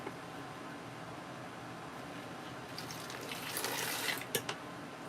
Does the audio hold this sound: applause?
no